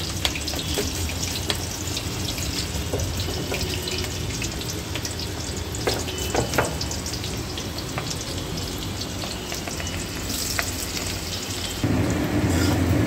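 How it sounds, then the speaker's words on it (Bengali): Onions frying in a pan for chow mein noodles give a steady, close hiss that continues without a break and grows louder in the final second, with no talking. "পেঁয়াজটা বেশ ভাজা ভাজা হয়ে এসছে"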